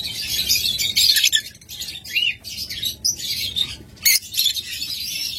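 A pair of lovebirds chirping busily, bright, rapid high-pitched tweets in quick bursts with short pauses, close and fairly loud.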